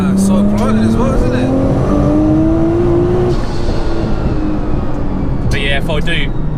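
A street-exhausted 1100bhp Nissan GT-R engine drones continuously and loud, its pitch climbing steadily as it revs, with people talking over it and a squeaky higher sound near the end.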